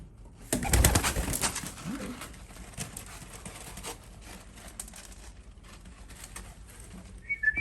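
Young racing pigeons, first-round 2022 birds being weaned, coo softly in a loft, with low murmuring calls and light fluttering or shuffling throughout, a louder burst near the start.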